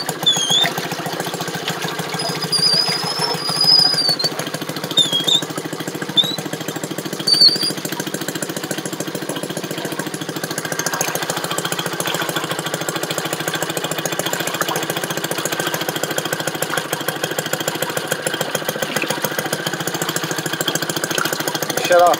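A Maytag washing machine's engine runs steadily with a rapid mechanical chugging and knocking rhythm, loud and close throughout, briefly bogging down under load, with faint speech over it early on.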